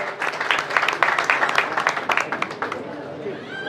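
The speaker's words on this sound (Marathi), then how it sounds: "जोरदार टाळी स्वागत करा." An audience gives brisk clapping to welcome a young girl at a ceremony honouring singers, a dense burst of applause close by that fades toward the end.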